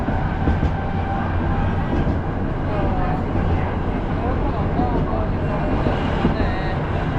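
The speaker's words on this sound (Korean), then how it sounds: "덜커덩거리는 바퀴 소리가 어쩐지 옛날 기차 타고 놀러 가는 것 마냥 정겹네요" A non-air-conditioned Budapest tram rumbles along its rails with a steady, loud clatter of wheels and a low continuous rolling drone that fills the whole passage.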